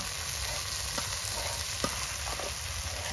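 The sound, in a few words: lentils (dal) frying in a pan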